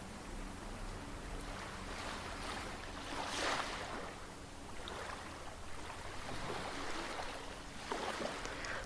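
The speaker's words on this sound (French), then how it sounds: "Vois maintenant comme les vagues ne sont pas séparées de l'océan" Ocean waves wash onto a beach in a steady, continuous surf with a few louder swells rising and falling, soft and alone with no voices.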